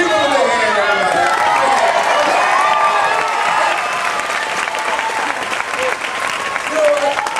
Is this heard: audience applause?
yes